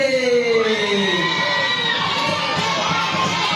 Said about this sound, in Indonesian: berikan tepuk tangan dulu untuk semua peserta MTM MRT